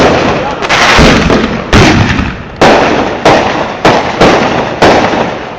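Fireworks explode in rapid succession, a chain of loud booming bursts with ringing decays, about seven or eight blasts close by and filling the sky with noise.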